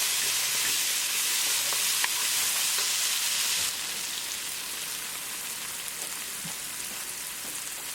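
Tomatoes and chicken drumsticks being stirred in a sizzling pan of lemon chicken curry, a steady loud frying crackle with occasional spoon scrapes and taps, no voices.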